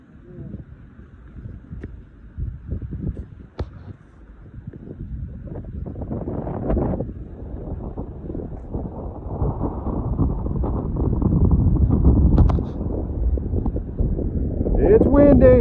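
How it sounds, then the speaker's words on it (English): Gusty wind buffets the microphone on an open mountain trail near Tinker Cliffs along the Appalachian Trail in Virginia, a steady low roar that builds louder toward the end. "It's windy."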